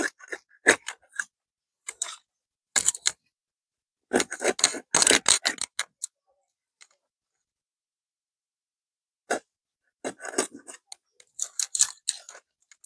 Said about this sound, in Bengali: আমি এরকম রিং পিস করে কেটে নিতেছি